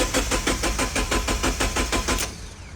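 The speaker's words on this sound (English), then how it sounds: "Let's crank it again, see what happens." A Mazda Miata engine cranks without catching: a loud, close, steady rhythmic chug of the starter turning over about a dozen times for two-odd seconds, then stopping.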